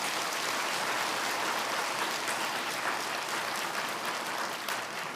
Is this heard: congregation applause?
yes